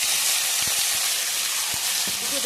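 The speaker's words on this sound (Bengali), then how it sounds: "তেল গরম হয়ে গেছে এই কড়াইতে, এটাতে ফুলকপি ছেড়ে দিই।" Cauliflower hisses in hot oil in a wok, a loud, steady, close-up spitting sizzle with a few soft knocks under it.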